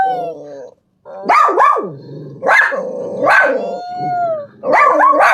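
A dog gives several loud, close barks and yelps with rising whines between them, sounding in bursts with brief pauses.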